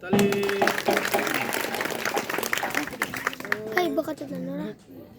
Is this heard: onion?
no